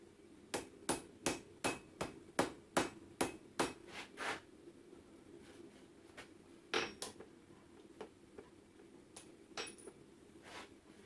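Blacksmith's hammer ringing on an anvil while sizing hand-forged tongs for 1/2 inch stock, a quick run of about a dozen sharp metallic strikes followed by sparser, lighter taps with pauses.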